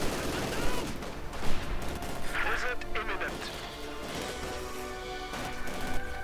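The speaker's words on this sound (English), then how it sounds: "light machine guns, submachine guns, all kinds of machine guns" Dense gunfire and explosions from a WWII strategy game battle, with light and submachine guns firing among grenadiers and conscripts, heavy overlapping bursts and crashes throughout under a continuous commentator's voice.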